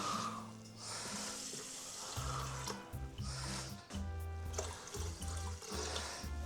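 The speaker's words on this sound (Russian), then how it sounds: "Добавим воду." Water pouring steadily into a rice cooker holding three cups of washed rice, a continuous close splashing and gurgling stream with slight shifts in pitch as the level rises.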